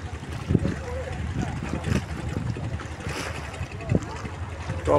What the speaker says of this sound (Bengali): নদীর মাঝখানে একটা ট্রলার যাচ্ছে।